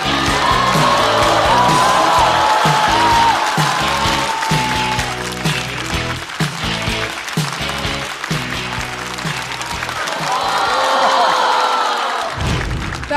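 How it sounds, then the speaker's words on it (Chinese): A stand-up comedy audience greets a comedian onto the stage with a loud burst of clapping and cheering, with music playing underneath, fading out and then swelling again near the end. "让我们掌声欢迎"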